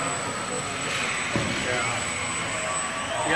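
An indoor radio-controlled Convair Charger model plane buzzes with a steady, high electric motor whine and airy rush. People talk over the continuous engine noise throughout.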